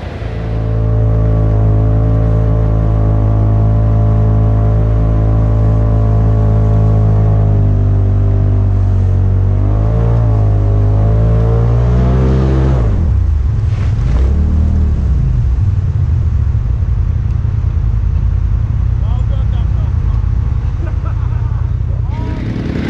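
A vehicle stuck in deep, slick wet snow drones with a loud, steady engine note that rises and falls as the throttle is worked, then drops into a rougher low rumble.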